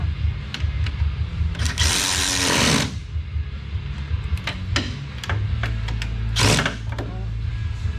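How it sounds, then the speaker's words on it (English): Power tool driving bolts back in and tightening them one at a time on a Rush SR kart during an alignment, with short bursts of loud whirring separated by pauses and clicks, close to the listener. "And so now I'm going to run these bolts back in again, one at a time, little by little."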